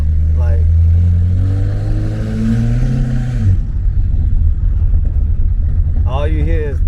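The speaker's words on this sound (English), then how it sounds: "all you hear is turbo noise and exhaust" A modified BMW's turbo and exhaust roar while driving, a loud sustained engine drone that rises in pitch, then drops into a rough rumble before another brief surge.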